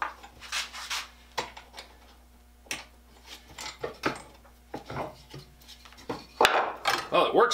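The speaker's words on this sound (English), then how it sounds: "I can sharpen this blade." A carbide-tipped saw blade is hand sharpened in a homemade jig, giving close, irregular scraping and clicking strokes with metallic ticks and rubs.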